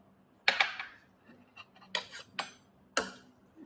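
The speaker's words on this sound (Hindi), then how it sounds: "चम्मच से थोड़ा घुमाते हैं।" A metal spoon stirring Maggi masala noodles in a pan gives several sharp clinks and scrapes, spaced irregularly and fairly close, with quiet between them.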